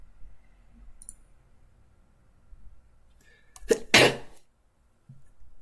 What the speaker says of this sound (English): I didn't know when the sneeze was coming